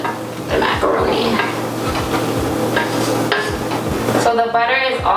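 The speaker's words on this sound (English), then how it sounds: "So I'm melting the butter into the macaroni." Macaroni being stirred in a pot as butter melts into it, with repeated scraping and clinking of a utensil against the pot and a faint sizzle, close by.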